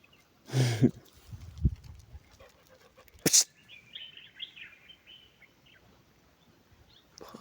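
Brief bird chirps and twittering in the open among date palms in Tafraout, Morocco, with a few sharp calls standing out over faint background noise.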